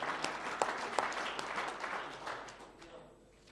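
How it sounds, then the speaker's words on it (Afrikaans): A church congregation clapping hands together, a lively burst of many claps with a few sharp peaks early on, then gradually thinning and fading out toward the end. "Kan ons vir die Here hande klap gee?"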